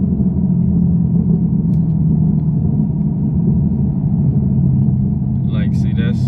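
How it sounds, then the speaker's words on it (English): A straight-piped Chevrolet Camaro SS with a 10-speed gearbox idles in a deep, steady low rumble close by, with a light burbling texture and a brief higher chirp near the end. "the 10 speeds pop more. So like, y'all hear that? It's more burbles."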